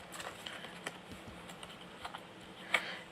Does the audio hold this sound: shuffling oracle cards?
yes